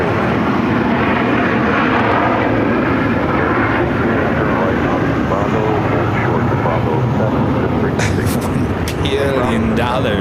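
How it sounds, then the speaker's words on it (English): Air Canada Express Jazz CRJ regional jet arriving at Phoenix airport, a loud steady engine roar filling the whole stretch with a broad rushing hum and brief higher whines near the end. "Air Canada Express Jazz CRJ. It's coming in from Vancouver."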